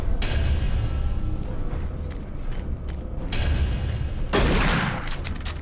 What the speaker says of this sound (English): with the shotgun reloading, every time you put a shell in, it gives you two shots